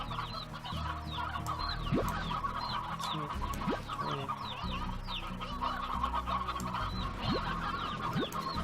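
Chickens cluck continuously on a ranch in the video game Slime Rancher, with dense overlapping cackles and clucks over a low background hum, steady and fairly close throughout.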